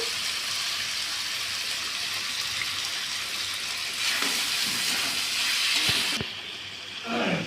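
Dahuk bird meat sautéed with chicken masala in a pan, a steady loud sizzle and hiss close up, swelling briefly with stirring scrapes before easing off near the end.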